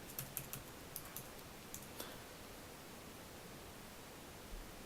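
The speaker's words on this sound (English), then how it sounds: "So I'm just going to type some text in here." Keys clatter on a MacBook keyboard in a short burst of soft, quiet clicks during the first two seconds, then stop, leaving a steady background hiss.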